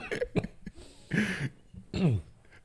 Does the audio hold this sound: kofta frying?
no